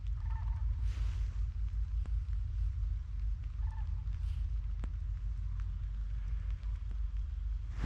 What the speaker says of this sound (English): I heard these sandhill cranes flying by.